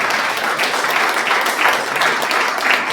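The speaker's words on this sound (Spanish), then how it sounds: "Denle un aplauso, por favor." A church congregation applauds during a sermon, a dense and steady wash of many hands clapping for the full three seconds, loud and close with no talk over it.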